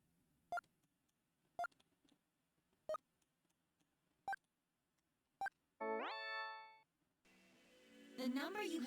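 Telephone keypad dialing beeps in the Snatcher video game: five sharp, evenly spaced single beeps, then a rising electronic tone sweep and a harsh buzzing signal tone.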